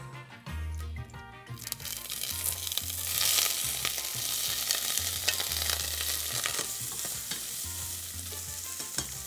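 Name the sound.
bacon frying in a little oil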